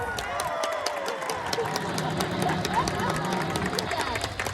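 An audience at a sea lion show at an aquarium claps steadily and cheers, a dense, continuous patter of applause mixed with crowd voices and babble throughout.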